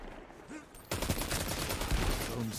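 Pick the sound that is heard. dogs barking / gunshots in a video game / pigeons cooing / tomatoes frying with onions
gunshots in a video game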